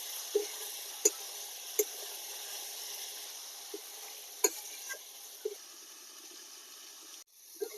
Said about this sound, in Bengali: এবারে মশলাটাকে আবার দু তিন মিনিট কষিয়ে নেব